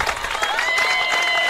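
Crowd noise at a varsity regional softball game, Bondurant-Farrar against ADM, swelling into steady cheering, clapping and shouting that stays loud and continuous throughout.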